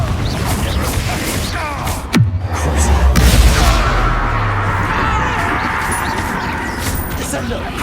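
Confringo fire spell blasts in the video game Hogwarts Legacy, a sharp bang followed by a deep rumbling boom over dense game ambience and voices.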